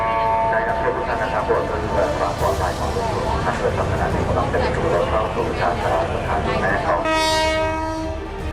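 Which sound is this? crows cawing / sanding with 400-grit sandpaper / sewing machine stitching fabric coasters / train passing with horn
train passing with horn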